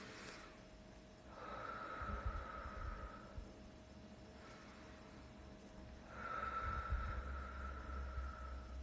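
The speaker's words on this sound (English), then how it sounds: "So just breathing in, out, out." Slow, deep breaths out, two long airy exhalations several seconds apart, close and soft over a low background hum, with a fainter breath between them and no talk.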